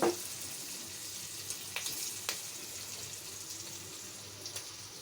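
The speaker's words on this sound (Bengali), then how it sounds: "পেঁয়াজ একটু ভাজা হোক তারপরে আমি এগুলো একসাথে মিশিয়ে নিব" Onions frying in a pan while fish with bean seeds and fried teasel gourd are cooked: a steady, fairly quiet sizzle with a few soft clinks and ticks, no talking.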